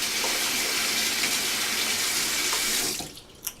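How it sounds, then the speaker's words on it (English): Warm water runs steadily from a tap over razor blades in a sink, a loud continuous gush that stops abruptly near the end, followed by a few small drips and clinks. "Then we're going to wet it with pretty warm water, not hot water"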